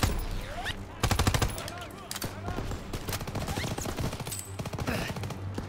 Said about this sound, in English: Come on, let's just keep taking out that MG.